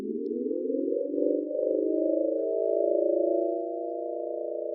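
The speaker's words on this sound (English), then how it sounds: "there's also a Harmonic Drone Generator, which is a free Max for Light device" Layered sustained drone tones from a free Harmonic Drone Generator Max for Live device in Ableton: several steady electronic pitches that glide slowly upward and settle into a smooth, continuous chord, alone and clean.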